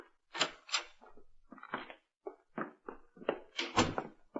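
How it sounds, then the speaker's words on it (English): Quiet, close wooden clunks, rattles and scraping knocks as a door is jimmied open in a 1950 radio drama, coming in an irregular series of short bursts. "Jimmy the door."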